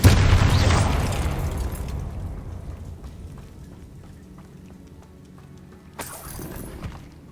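A Confringo blasting curse in Hogwarts Legacy erupts in a loud, close boom with a crackling shatter that slowly decays into a rumbling tail. A second, sharper burst hits near the end.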